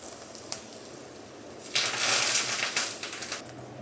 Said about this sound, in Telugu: పోపు కూడా వేగిపోయింది, అందులో వేసేసుకుందాం.